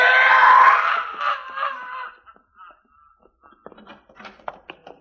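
A loud, piercing scream in an old suspense radio drama, a long cry for help that fades after about two seconds, followed by quiet scattered footsteps and small knocks.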